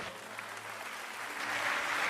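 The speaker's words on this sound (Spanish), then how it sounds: "Dale un aplauso a Dios" A church congregation at a sermon claps together in a soft, distant wash of applause that holds steady, then swells slightly louder toward the end, with no voices on top.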